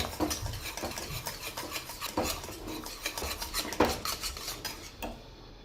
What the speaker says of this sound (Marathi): आता हे छान असं फेटून घ्यायचं आहे.